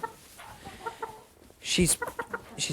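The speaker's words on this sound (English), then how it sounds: "This is a Black Rock chicken." A Black Rock chicken clucks close by, giving a loud burst of squawking clucks after quieter clucks and faint background sounds.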